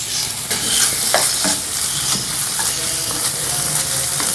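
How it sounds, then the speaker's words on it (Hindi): Chicken sizzles and fries in a tablespoon of oil in a pan over a high flame, with steady continuous crackling, occasional stirring scrapes and small bright pops throughout. "1 खाने का चम्मच हमने ऑयल लिया और इसमें चिकन डाल दें"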